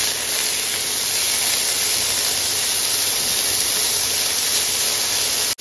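Ginger and garlic paste sautéing in a pan over a medium flame for a sweet corn vegetable and chicken soup, giving a steady, loud broadband sizzle and hiss that runs unbroken and close up, with no talk.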